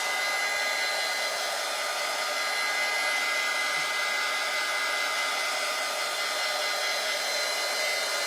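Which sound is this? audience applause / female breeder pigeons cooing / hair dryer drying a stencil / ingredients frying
hair dryer drying a stencil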